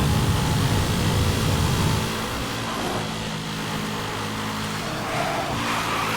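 Race car engine in the video game Need for Speed: Hot Pursuit (2010), a steady loud roar with a heavy low rumble that eases after about two seconds and swells again near the end, with no talk over it.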